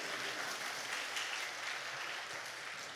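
A church congregation applauding during a service at a prayer retreat, steady mass clapping filling the moment at moderate level, slightly distant, with no voices rising above it.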